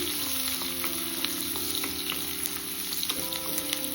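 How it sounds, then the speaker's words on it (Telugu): Chopped onion frying in oil with cinnamon, cardamom and cloves for tomato pulao: a dense, steady sizzle close by, with faint stirring and a low background hum, and no voices. "తరిగిన ఉల్లిపాయ ఒకటి వేసేసుకోవాలి. ఇది ఎక్కువ వేగాల్సిన అవసరం లేదండి."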